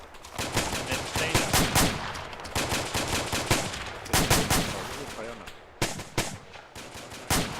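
Rapid, loud gunfire in a military video game set among trees, dense automatic bursts with brief gaps and a few isolated sharp shots, close and constant throughout.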